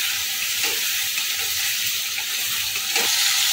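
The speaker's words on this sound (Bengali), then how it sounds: "এখন ভেজে রাখা আলু পটলটা দিয়ে আরও মিনিট 2 সময় ধরে ভালো করে এভাবে কষিয়ে নেব।" Potato and pointed gourd pieces fry with spices in a pan, a steady close sizzle running throughout with occasional stirring scrapes and no talk.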